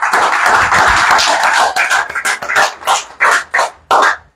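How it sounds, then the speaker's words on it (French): Crowd at a Gabonese presidential campaign meeting applauding for Oligui Nguema, close loud clapping that starts dense and then breaks into rhythmic bursts before stopping. "on applaudit pour Oligui Nguema."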